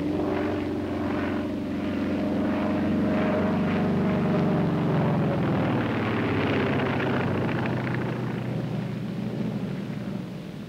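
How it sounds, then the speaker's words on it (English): Two fighter planes performing a simulated dogfight, their engines producing a loud, continuous drone that swells and shifts in pitch as they maneuver, with no voices over it. "Here are two fighter planes simulating a dogfight."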